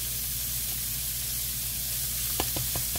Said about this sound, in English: I'm using my small wok pan to fry in